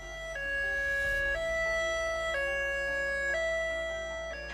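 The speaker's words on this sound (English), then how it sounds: "staff to actually be out driving in the areas with a high-low siren" A high-low emergency evacuation siren from a vehicle alternates steadily between two tones, loud and continuous, each pitch held about a second before switching.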